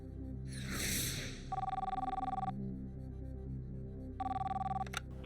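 A telephone rings twice in a TV quiz studio as a phone-a-friend call goes out, two bursts of electronic trilling separated by a pause, over a low studio hum and a brief breathy rush at the start.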